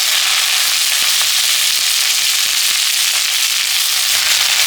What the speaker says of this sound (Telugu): ఈ కరివేపాకుని మనము ఈ మూకుల్లో స్టవ్ వెలిగించి కొద్దిగా ఆయిల్ వేసి వేపుకుందాము